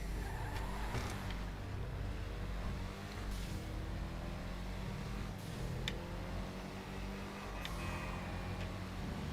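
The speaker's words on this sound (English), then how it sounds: "The sound that engine makes on the freeway." Steady in-game car engine drone while cruising a freeway in Grand Theft Auto, a continuous low rumble with faint passing whooshes and brief tire noise, moderately loud and alone.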